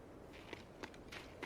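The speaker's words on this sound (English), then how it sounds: "so you can hear footsteps." Another player's footsteps in the video game Escape from Tarkov come as a few faint, irregular crunching steps at a distance over steady background hiss.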